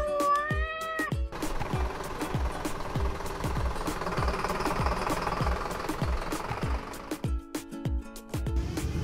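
A cartoon cat stuck on a roof meows once at the start, followed by a steady, rhythmic mechanical knocking and engine rumble from a lift truck, with another brief meow near the end.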